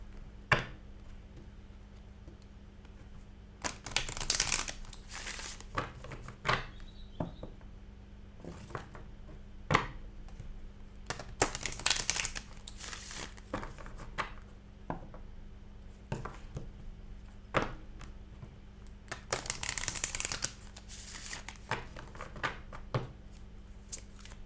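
A deck of oracle cards is shuffled at close range in a quiet room. Bursts of crisp riffling and flapping come at a few intervals between softer taps and handling noises, with no talking.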